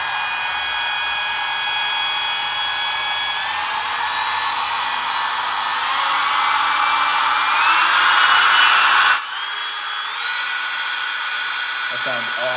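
A Kobalt 24v brushless compact router runs at a steady high-pitched whine that rises in pitch as it spins up, then cuts off abruptly and restarts briefly at a lower level.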